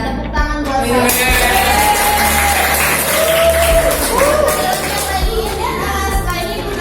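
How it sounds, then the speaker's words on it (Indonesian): A classroom of children claps continuously and loudly for several seconds, with excited young voices and shouts mixed in among the applause. "tepuk tangan buat saya"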